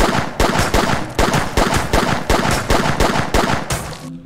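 Gunfire in the video game Sneak Thief: about ten sharp, evenly spaced shots in rapid succession, loud and close, ending abruptly with a short metallic clatter.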